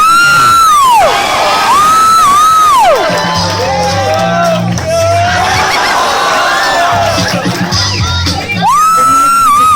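Loud audience at a grad night hypnotism show cheering, whooping and yelling continuously, with high excited shouts and a whistle-like tone rising and falling over the din of the crowd.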